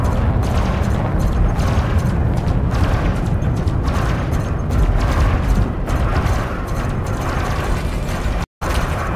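Continuous heavy mechanical rattling and rumbling bursts of rapid spaceship weapon fire in Elite Dangerous, in a combat zone, loud and dense throughout, cutting out briefly near the end.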